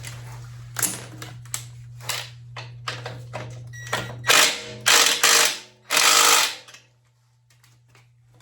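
Ratchet wrench removing bolts from the swing arm of a Harley-Davidson V-Rod, quick close clicking bursts followed by longer louder ratcheting runs over a steady low hum, with no speech.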